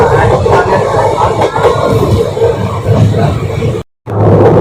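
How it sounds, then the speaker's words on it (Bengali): A passenger train on the Ahmadpur to Azimganj route, train number 53056/53053, pulls into Katwa Junction, a rumbling, growling roar with rolling surges that cuts out briefly near the end before resuming. "এই ঢুকে গেল আমাদের ট্রেন কাটোয়া জংশন।"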